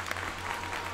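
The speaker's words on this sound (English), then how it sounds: "Who's clapping?" Brief burst of crowd applause in the Friday Night Funkin video game, a short steady patter of clapping heard alone for about a second.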